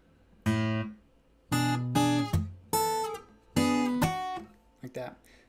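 Measure 36 of a song on fingerstyle acoustic guitar, opening on an open A: several close, bright chord strikes that ring and fade, ending with a few lighter, softer plucks.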